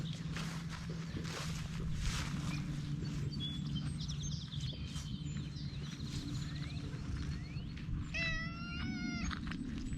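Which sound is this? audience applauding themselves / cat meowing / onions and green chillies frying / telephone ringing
cat meowing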